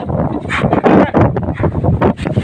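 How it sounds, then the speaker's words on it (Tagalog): Loud, gusty wind roaring and buffeting against the microphone in uneven bursts, close and harsh throughout. "Lakas ang hangin."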